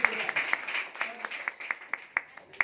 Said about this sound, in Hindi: प्लीज एक बार ताली बजाओ।